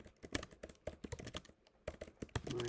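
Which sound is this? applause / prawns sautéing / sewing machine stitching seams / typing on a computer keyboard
typing on a computer keyboard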